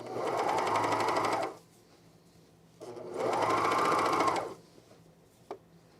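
Sewing machine stitching a curved seam on a jumpsuit, two bursts of rapid steady whirring separated by a quiet pause, close and fairly faint.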